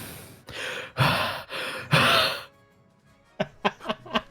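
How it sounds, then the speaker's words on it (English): Heavy breathing close to a microphone: a string of loud, rough breaths and sighs for about two seconds, then a pause and a quick series of short, sharp exhalations. "Heavy breathing from you"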